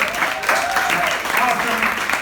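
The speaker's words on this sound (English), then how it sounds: "Please clap it up for yourself and for Milton Teater." An audience at a comedy show at Villain Teater applauds in a dense, continuous wash of clapping, with a performer's voice speaking over the top.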